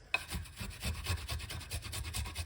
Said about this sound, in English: So you want to grate the ginger like this.